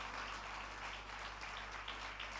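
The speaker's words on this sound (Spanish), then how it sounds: "Fuerte ese aplauso de alabanza al Señor." Congregation applause of praise during a church service, a faint, distant wash of clapping over a steady low electrical hum.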